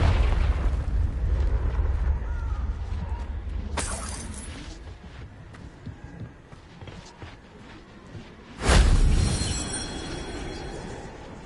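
Confringo fire spell explosions in Hogwarts Legacy on PS5, two booming bursts with a crackling rumble between them, the second one loud and abrupt near the end.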